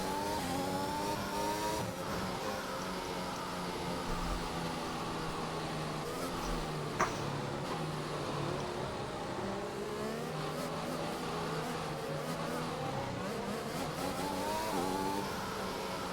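A Formula 1 car's engine drones steadily in a racing video game on a formation lap at a Brazil circuit, its buzzing harmonics rising and falling with throttle changes throughout, loud and continuous with no speech.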